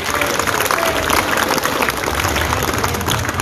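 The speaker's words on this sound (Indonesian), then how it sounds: "tepuk tangan dulu nih" Assembled police personnel at an Indonesian district police briefing applaud their high-achieving colleagues, a loud, continuous crowd clapping with a busy, rough texture and no talk in between.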